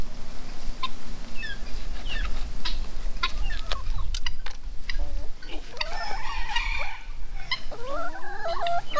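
Chickens cluck and call repeatedly in a tropical garden, close and fairly loud, with rising squawks and warbling notes toward the end over steady outdoor background noise.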